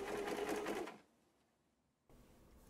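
A sewing machine stitches Victorian corset panels together, running in a steady fast chatter for about a second before stopping, then a faint low hum resumes near the end.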